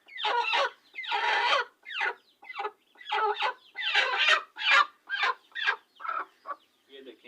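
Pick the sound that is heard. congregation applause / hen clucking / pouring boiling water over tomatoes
hen clucking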